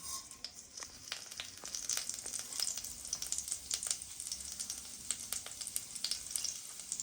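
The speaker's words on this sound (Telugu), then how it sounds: "నూనె వేడి అయ్యిందండి ఇప్పుడు ముందుగా మనం జీలకర్ర వేసుకుందాం" Cumin seeds crackle and sizzle in hot oil in a pan, a faint steady frying hiss dotted with small pops and a few stirring scrapes.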